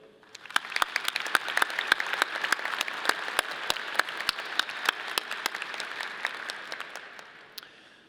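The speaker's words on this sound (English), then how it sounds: "please join me in a round of applause for the CSU Brass Ensemble" A commencement crowd in an arena bursts into applause for a brass ensemble, building quickly to a full roar with sharp individual claps popping out, then slowly tapering toward the end.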